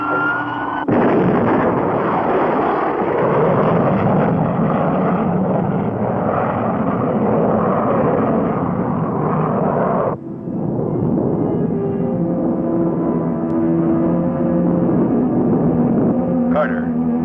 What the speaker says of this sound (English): From launch control, you are clear for blast off.